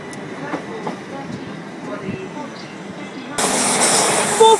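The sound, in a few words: train passing at Battersea Park or Clapham Junction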